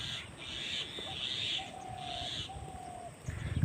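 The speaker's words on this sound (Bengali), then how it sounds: "কি পরিমাণ গুগু ডাকতেছে এখানে" Doves call in a leafy, sparsely housed rural area, giving soft, low hooting coos in a few separate phrases over a quiet outdoor background with faint bird chirps.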